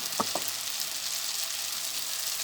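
Spice paste hitting browned onions in a hot frying pan sets off a steady, close sizzle that holds evenly throughout, with a couple of brief stirring clinks near the start.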